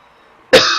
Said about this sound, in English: This cough and this cold are really doing me in at the moment